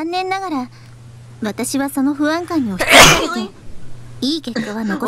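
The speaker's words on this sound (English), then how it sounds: "Sneeze." A sharp, loud sneeze bursts out in the middle of conversation, with people talking before and after it.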